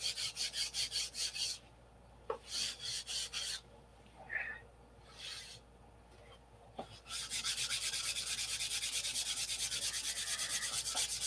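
A P-47 model flap being smoothed with fine 320-grit sandpaper, steady rhythmic rubbing strokes in close bursts with brief pauses, then a continuous stretch of sanding, no talking.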